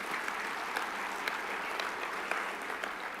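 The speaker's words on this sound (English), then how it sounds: "Can we actually give them a round of applause for this incredible event that they're doing?" Steady applause from the audience at a chamber of commerce annual meeting fills the room, a dense even wash of clapping that holds at moderate volume throughout with no talking.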